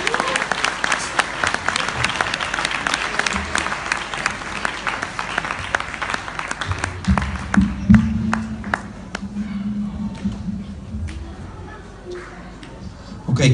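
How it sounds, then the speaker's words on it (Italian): Audience at a 2017 live music show breaking into sustained applause with dense clapping and some crowd noise that fades partway through, low voices and music sounds entering later. "grande applauso per favore."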